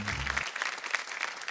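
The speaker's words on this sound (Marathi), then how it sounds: "एकदा जोरदार टाळ्या झाल्या पाहिजे." Audience applause on a Marathi women's TV show: a steady, dense patter of many hands clapping at moderate volume, sustained throughout.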